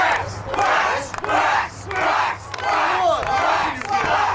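Wrestling crowd at a Combat Zone Wrestling event cheers and shouts in loud surging waves, chants rising and dropping in a big hall with no commentary over it.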